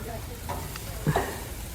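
Food sizzles on an outdoor grill, a steady crackling fry hiss running underneath the whole moment, with a faint voice briefly audible partway through.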